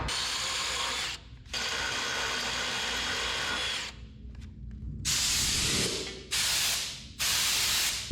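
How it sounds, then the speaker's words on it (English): A power drill bores out sheet metal on a Chevy truck bed during a short bed conversion, loud high whining bursts that start and stop several times with brief quiet gaps between them. "Just drill that out till we touch those edges."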